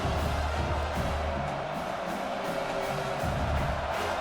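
Home crowd at an AAFL professional football game in Hartford, roaring steadily as the defense tries to get off the field on third down, a dense, distant stadium wash with no voices standing out.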